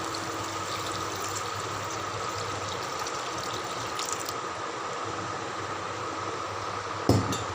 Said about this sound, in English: so I am going to add some water into this.